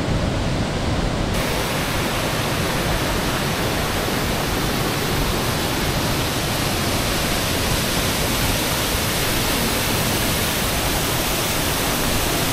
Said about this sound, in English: Alright, so we spent our time here at the waterfall.